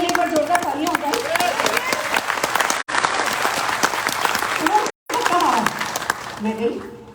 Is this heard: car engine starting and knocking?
no